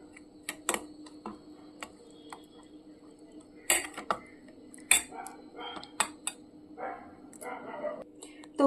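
A spoon mixes eggs with mustard oil and green chilli paste in a bowl, tapping and clinking against the sides in scattered bursts. The sounds are close, with quiet gaps between them, and a person may be talking.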